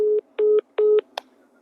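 Three keypad dialing tones, each about a fifth of a second with even gaps, followed by a short higher chirp, as a phone number is redialed; clear and close with no talk over them.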